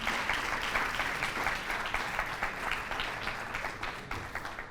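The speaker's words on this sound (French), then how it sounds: "Merci d'applaudir pour Ange Denise." A crowd at an a cappella singing competition applauds a contestant, a warm, steady round of clapping with individual claps faintly distinguishable, easing off toward the end.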